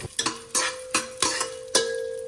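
Cumin and pulao spices with a little kasuri methi frying in a pan, heard as a series of sharp clinks and scrapes of a utensil stirring against the metal over a light sizzle, close and fairly loud with no talking.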